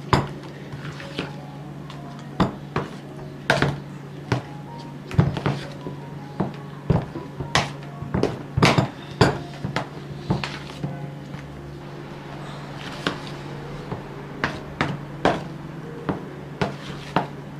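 A spoon clinks and scrapes against a bowl while saffron is stirred into plain ice cream, with irregular sharp taps repeating throughout at close range and no talking.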